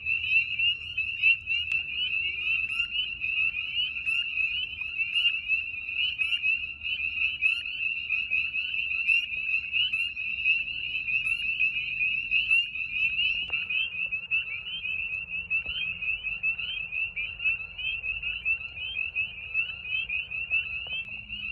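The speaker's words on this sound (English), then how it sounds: "Hopefully you guys can hear me over these spring peepers." Dense, continuous chorus of spring peeper frogs calling at a vernal pool at night, a shrill repeated high peeping close and loud throughout, with a faint low rumble beneath and no talking.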